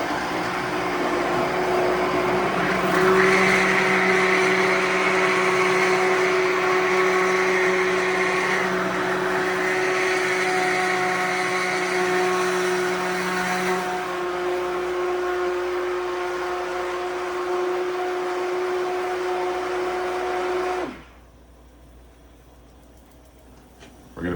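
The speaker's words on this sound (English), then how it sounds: "we're also going to start blending our egg mixture. So that way it's constantly running" A blender runs steadily and loudly for about twenty seconds, whirring through an egg mixture for chicken soup, its motor pitch shifting slightly partway through, then it cuts off abruptly, leaving near quiet.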